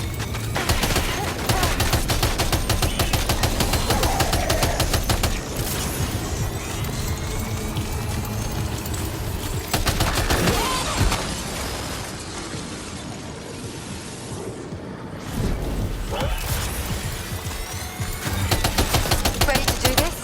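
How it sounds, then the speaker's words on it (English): Sustained gunfire in the video game Death Stranding 2, a dense rapid clatter of shots running almost without break for twenty seconds, dipping briefly midway before picking up again, with voices talking over the shooting. "Open fire."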